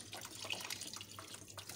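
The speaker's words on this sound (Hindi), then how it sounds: "अब मैं इसके अंदर पानी शामिल कर रही हूँ" Water being poured into a pot of rice for Delhi-style pulao, a brief, faint, steady splashing trickle.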